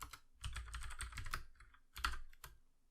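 Code being typed on a computer keyboard, a close, quiet run of quick key clicks in bursts with a short pause before a few final taps.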